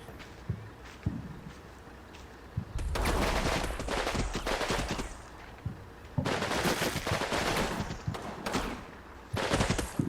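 Gunfire in the Combat Mission Red Thunder war game, bursts of machine-gun and rifle fire in several rapid volleys separated by quieter gaps with scattered single shots, moderately loud.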